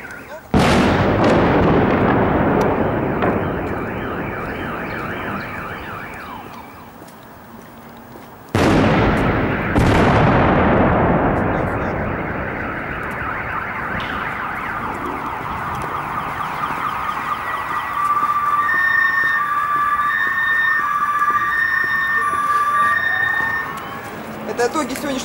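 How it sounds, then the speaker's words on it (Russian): Mortar shelling explodes nearby in two heavy, booming blasts with long rolling echoes, followed by a sustained wailing tone like an alarm or siren, with voices speaking in the background. "По всему обстрел идет откуда-то с той стороны, это даже слышно по направлению звука, мы как раз слышим."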